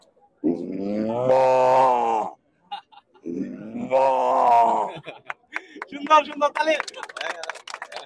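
A man imitates a cow lowing with two long, deep, groaning moos, close and loud, followed by a burst of clapping and brief voices.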